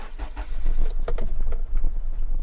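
A 2006 Nissan X-Trail engine cranks and catches, then settles into a slightly uneven, misfiring idle after sitting unused, heard up close from the cockpit with no talk.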